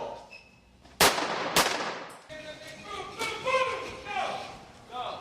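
On a film set, a blank gun or small explosive charge gives two sharp, loud bangs about half a second apart, followed by lingering room noise and distant crew murmur.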